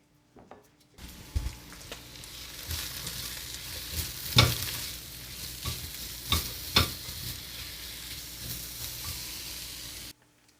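Mushrooms stirred and frying in a pan for a casserole, a soft steady sizzle with occasional sharper scrapes and clinks of the utensil, fairly quiet and close, no talking.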